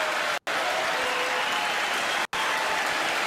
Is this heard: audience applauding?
yes